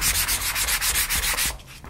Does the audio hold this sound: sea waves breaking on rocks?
no